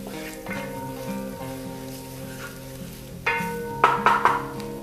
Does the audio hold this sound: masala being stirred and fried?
yes